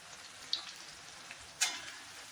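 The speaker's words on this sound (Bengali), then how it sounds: "এর উপর আমি যেটা বললাম কস্তুরি মেথি আমি দিয়ে দিচ্ছি।" Crushed kasuri methi leaves drop onto mutton frying in a pan, setting off a soft, low sizzle with two short crackling bursts close by and no voices.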